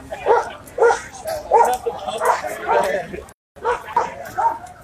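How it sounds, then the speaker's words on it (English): A service dog barks repeatedly in loud, rhythmic bursts at a public protest in a city, close by, with a brief pause before the barking resumes. "that's a service dog"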